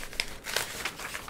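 Sheet of wrapping paper crinkling and crumpling in a few quick, close rustles while being folded in half around a 10-inch Funko Pop.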